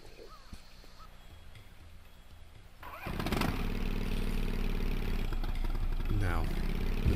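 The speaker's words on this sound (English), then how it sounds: "back on the quad bike." Quad bike engine in Tomb Raider III, starting up partway through and settling into a loud, steady motor drone with a revving rise near the end, after quieter ambient game sound.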